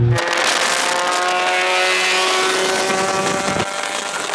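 A loud Mazda RX7 engine drones while driving, holding a strong, buzzy, sustained tone that eases slightly near the end.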